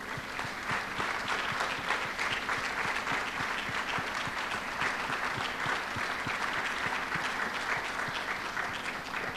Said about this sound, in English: Let's keep on clapping for her